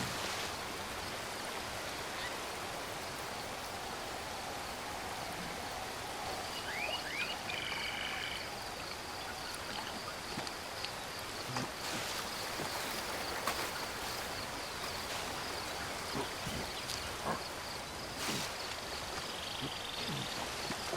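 A steady rush of flowing stream water runs through a prehistoric jungle in Ancestors: The Humankind Odyssey, a soft, constant wash with frogs croaking and occasional clicks layered on top.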